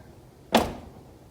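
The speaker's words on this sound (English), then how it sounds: "when I open up the door of the dryer" A clothes dryer door swings open with one sharp knock as a plastic bumper dot on the corner strikes and bounces, close and brief, then fading.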